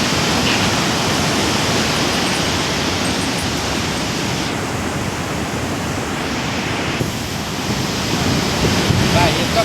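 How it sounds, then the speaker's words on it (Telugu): Overflowing water at Nizam Sagar dam on the Manjira river rushes in a steady, loud, continuous roar with wind buffeting the microphone, no voices. "ఓవర్ఫ్లో అవుతుంది కాబట్టి అలాగూ నీళ్ళు ఇంకా ఫ్లోటింగ్ వస్తుంది."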